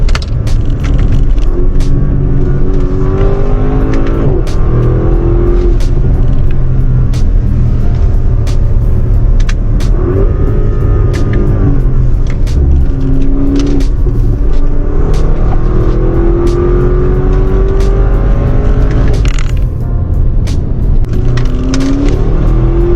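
An Audi RSQ8 performance SUV engine revs hard and accelerates with a loud, steady roar, pitch rising and falling through gear changes, close and continuous throughout.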